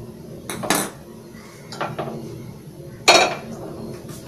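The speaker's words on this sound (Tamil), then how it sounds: "பேன் வச்சுக்கோங்க, நல்லா ஹீட் ஆகட்டும்." A pan set down on a gas stove while cooking Tamil-style egg fried rice, giving a few metallic clanks and clinks at irregular moments, one sharp loud knock near the end, with no voices.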